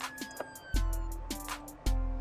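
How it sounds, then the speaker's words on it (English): A car audio capacitor discharges after the battery ground terminal is disconnected, giving a series of electronic beeps and tones with sustained pitched humming that jumps in loudness twice, close and fairly faint. "That's the noise of my capacitor discharging"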